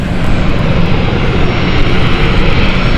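A Swiss airliner bound for Geneva roars steadily on departure, a loud continuous broadband engine rush that holds at full strength throughout with no voices.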